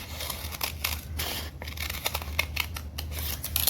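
Scissors snipping through painted paper during a paper-weaving craft, a close series of crisp cuts with a light crinkle of the sheet between them.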